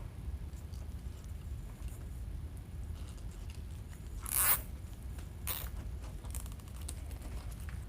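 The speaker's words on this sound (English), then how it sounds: "we're gonna zip tie this back together like this" A plastic zip tie ratcheting tight around a small Christmas swag for a gift door hanger, close rasping clicks over a steady low background hum, with one louder pull midway.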